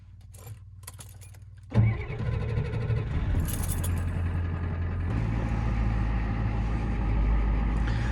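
Keys jingle briefly, then a Ford F250 pickup's 6.9 IDI diesel engine cranks and catches with a loud burst before settling into a deep, steady diesel idle nearby.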